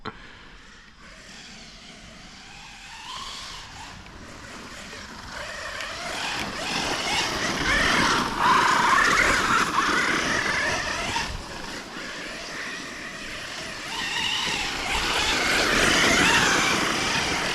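A Losi Super Baja Rey 2 RC desert truck drives through a garden, its motor a continuous whirring drone that rises and falls in intensity as it accelerates and slows, heard fairly close.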